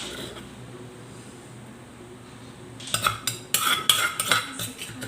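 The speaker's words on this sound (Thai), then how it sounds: "เสียงขวดโคก" Faint background hum, then a series of sharp, irregular knocks and clinks from pounding a long-bean salad in a clay mortar, close and fairly loud.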